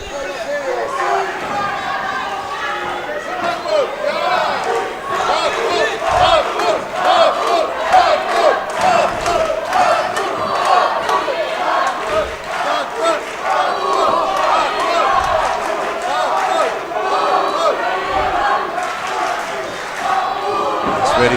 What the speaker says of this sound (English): We've got a loud Ukrainian crowd and a loud Netherlands crowd, haven't we?